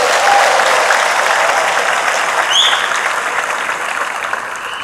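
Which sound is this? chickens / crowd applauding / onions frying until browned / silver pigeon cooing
crowd applauding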